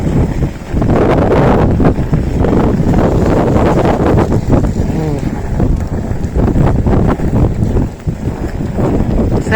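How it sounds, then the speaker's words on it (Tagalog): Strong, gusty wind buffets the microphone at a railway station, a loud continuous rumble rising and falling in bursts, with faint voices briefly audible beneath it. "Ang lakas ng hangin, guys."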